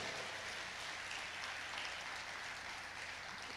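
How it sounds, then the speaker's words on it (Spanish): A church congregation claps in a steady, continuous wash of applause, even and moderately distant, with no voices standing out. "Vamos, dale fuerte ese aplauso"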